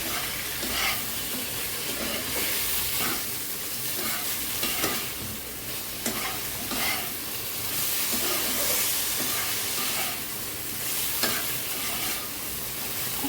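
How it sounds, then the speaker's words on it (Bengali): Red amaranth stalks sautéing in a pan give a steady, close sizzle with repeated scraping stirs, running unbroken with no voices. "একটু ভালো করে কষিয়ে নিতে হবে, এতে করে লাল শাকের যে ডাটার একটা একটা গন্ধ থাকে সেই গন্ধটা চলে যাবে।"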